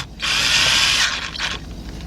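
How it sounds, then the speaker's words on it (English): A cordless drill fitted with a 10mm deep socket spins and drives transmission pan bolts in one sustained, close whirring burst that tapers off near the end, with no voices. "I'm using my cordless drill with a 10mm deep socket, and we're gonna start from the middle"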